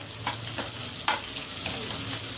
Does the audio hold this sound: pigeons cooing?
no